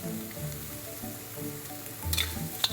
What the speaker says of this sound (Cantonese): 就一直咁樣翻炒啊